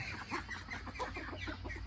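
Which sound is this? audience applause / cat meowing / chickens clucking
chickens clucking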